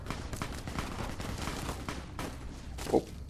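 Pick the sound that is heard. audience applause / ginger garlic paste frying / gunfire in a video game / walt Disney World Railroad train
gunfire in a video game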